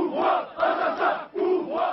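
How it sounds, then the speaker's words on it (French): A crowd at a funeral during riots in Kabylie shouts slogans in loud, rhythmic bursts of massed voices, rising and falling over two seconds with brief pauses between chants. "Il n'y aura pas de pardon, crie la foule."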